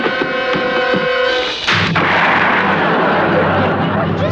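Gunfire in a western TV quick-draw duel: a few sharp pops at the start, then a loud shot that rings into a long, rumbling reverberant tail filling the rest of the moment.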